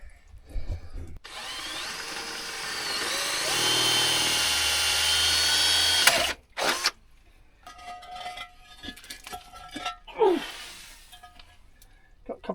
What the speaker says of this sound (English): I'll drill a hole inside the pipe.